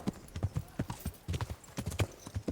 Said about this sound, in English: My horse just casually walking out of the dorms